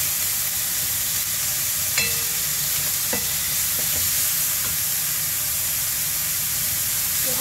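Beef mince sizzles steadily in a hot pan for shepherd's pie, a continuous close frying hiss with a few light clicks and taps, no voices.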